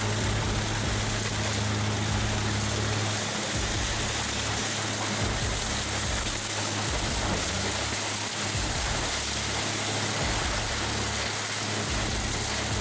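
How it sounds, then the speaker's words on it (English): Scrap shredder with counter-rotating drums crushing dense mixed material, a loud continuous mechanical roar with steady low hum and periodic low-end thumps, no voices. "Those counter-rotating drums bite into dense material, keeping feed consistent while avoiding jams."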